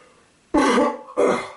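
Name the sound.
cough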